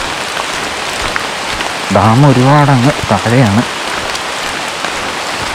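Heavy rain pours steadily through a forest, a loud constant hiss throughout, with someone speaking briefly in the middle.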